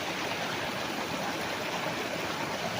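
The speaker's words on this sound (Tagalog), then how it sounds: "So tabi po mismo ng magandang ilog." A river runs along the boundary of a farm lot in Liliw, Laguna, giving a steady, even rushing wash of water with no breaks and no voices.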